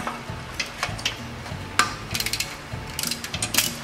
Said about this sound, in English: So just go ahead and take the four nuts off.